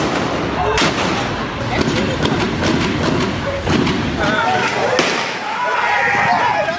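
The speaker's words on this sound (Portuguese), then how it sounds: "na saída, tiros foram disparados." Several sharp gunshots ring out as a police vehicle pulls away, the reports standing out over loud, continuous background noise and commotion.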